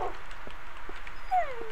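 Tamed dogs in the video game Minecraft whimper in a few short, high-pitched whines, one clear whine near the end over low background noise.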